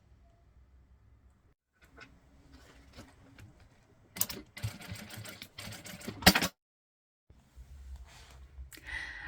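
A sewing machine runs two short bursts of stitching along the seam of a double men's toiletry bag, rapid and rattling, separated by quiet handling and near silence.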